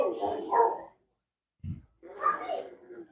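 A puppy meeting an animal for the first time lets out a short whimper and a single soft yip between stretches of close, quiet talking from people nearby.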